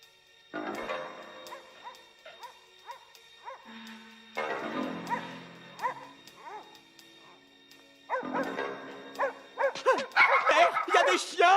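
Several dogs barking and yipping in a night scene of a French-dubbed Jet Li action film, bursts of barks growing louder and more frantic toward the end, with some whimpering between.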